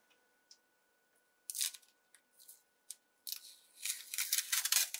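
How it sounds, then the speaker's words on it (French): Protective tape is peeled off a spool of material loaded in a machine, a few faint clicks and then rasping bursts of ripping tape growing louder and longer toward the end, with a quiet background. "Je vais donc enlever le scotch protecteur."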